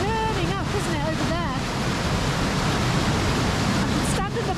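Storm Christoph whips up churning water and gusting wind, a loud continuous broadband roar of surf with wind buffeting the microphone throughout, while a voice speaks intermittently near the start and again near the end.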